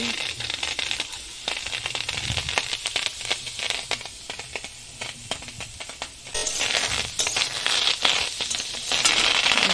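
Corn kernels fry in a kadai with dense, crackling sizzle and sharp pops, loud and continuous, growing busier toward the end.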